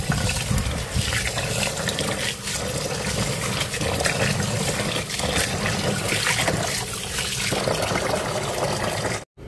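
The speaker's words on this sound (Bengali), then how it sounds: "পোলাও চালটা ধুয়ে নিই" Polao rice being washed in water for a beef tehari, with steady close splashing and trickling that runs without a break and stops abruptly at the end.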